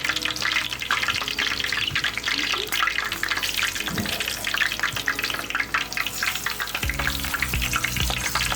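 Garlic and a hot scotch bonnet pepper fry in oil for Jamaican brown stew fish, giving a steady, dense crackling sizzle that runs close and unbroken throughout, with a few clinks of a utensil against the pot.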